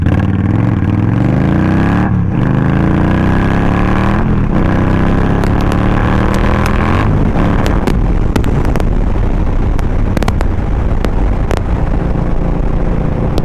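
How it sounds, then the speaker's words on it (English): A 2023 Indian Scout Rogue motorcycle accelerates hard from 0 to 60, its engine revving up loudly through several gear changes with rising, sweeping tones and brief dips between shifts, wind roar constant underneath. "we're gonna do some 0 to 60 stuff"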